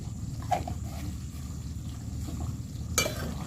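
Curry with masala is stirred in a cooking pot over a soft sizzle, with two sharp utensil clinks against the pot standing out above a low, steady background.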